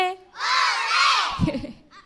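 Kindergarten children at a school event cheer together in a loud, sustained group shout after singing a action song, the chorus of young voices swelling for about a second before trailing into scattered calls.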